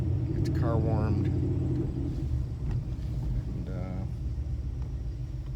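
Ford Mustang Boss 302 V8 idling while warming up: a low, quiet rumble that holds steady, with a couple of brief pitch wobbles.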